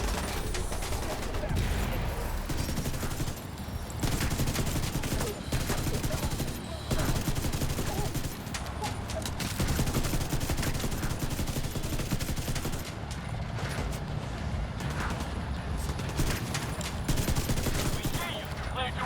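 Sustained gunfire in The Division 2 video game as a turret is destroyed, dense overlapping bursts and impacts filling the whole stretch loudly, with game voices speaking at times.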